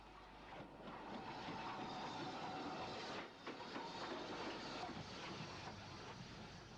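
A Midland Fowler Class 4 tank engine, number 264, works a freight train past the listener with a steady, continuous rumble of rolling wagons and faint rhythmic clatter, moderately loud and without speech.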